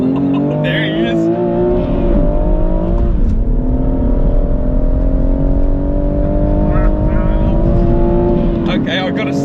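BMW M2 Competition and BMW M140i, both six-speed manuals, accelerating hard in a drag race, a loud sustained engine roar climbing in pitch through gear changes, with brief wheelspin and voices talking over it.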